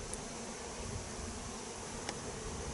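A steady, faint hum of many honeybees buzzing continuously near a hive, a dense drone without pauses or voices.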